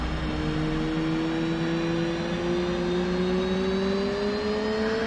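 An F/A-18C Hornet's right engine spools up from idle in a combat flight simulator, a steady loud jet roar with a whining tone rising slowly in pitch throughout.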